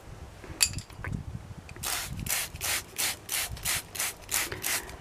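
Sooty mold being brushed off succulent leaves, a series of steady, rhythmic bristle strokes rubbing back and forth, close and fairly loud, following a few scattered handling taps.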